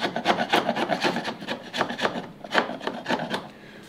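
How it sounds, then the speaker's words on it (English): A sharp chisel scrapes rough wood from a cut surface in a rapid run of close, rasping strokes, each a short gritty rub repeating steadily for several seconds with no talk. "So you can use a sharp chisel to just remove that rest of that rough stuff that we cut from initially."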